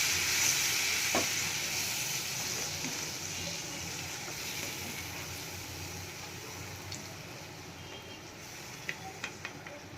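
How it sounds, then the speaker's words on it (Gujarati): Low steady hiss and faint sizzle as yogurt is stirred into a hot spiced tempering in a pan with the heat off, with a few soft spoon scrapes and clinks near the end. "ગેસ બંધ કરીને આપણે એમાં દહીં એડ કરશું આપણે એને મિક્સ કરી લેશું"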